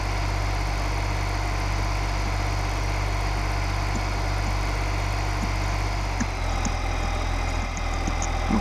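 A tractor engine idles steadily in Farming Simulator 2015, a constant low mechanical hum with a slight shift in pitch near the end and no talk.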